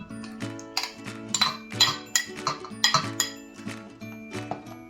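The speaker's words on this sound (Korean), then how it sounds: "여기다가 이제 김치를 섞어줍니다." Kimchi being mixed into a thick pancake batter for kimchijeon: a utensil scrapes and clinks against the bowl in an irregular rhythm, close and fairly bright, with a faint steady tonal hum in the background and no speech.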